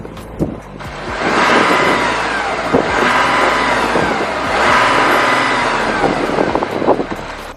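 From outside, a Porsche Macan S Diesel's 3-litre diesel engine is revved three times in succession, each a swelling, fairly muted mid-range roar that falls back between pushes, with some handling noises around it.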